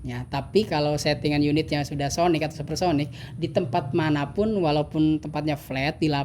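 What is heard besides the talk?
No distinct noise like a dog, phone or traffic.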